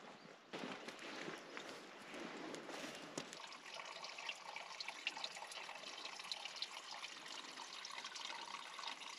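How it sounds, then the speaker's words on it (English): Continuous running water filling a garden pond splashes and trickles steadily, a soft, close hiss with small bubbling accents and no voices. "The water is running, the pond is filling"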